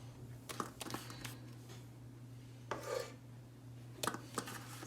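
Butter is rubbed over the inside of a 9-inch metal cake pan, giving soft intermittent scraping and rubbing strokes in short bursts, close and quiet against a low steady hum, with no talking.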